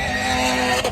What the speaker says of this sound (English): there's some cars going around the track